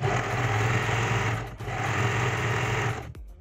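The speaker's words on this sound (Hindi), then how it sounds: "अब हम एक तरफ से इस तरह से उलट करके सिलाई लगा देंगे" A sewing machine runs a continuous whirring stitch along a canvas strip on a lehenga edge, pausing briefly midway and stopping at the end.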